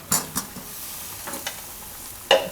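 Parval kofta gravy simmering in oil in a pan, a quiet steady sizzle broken by a few short scraping stirs of the spoon, with no talking.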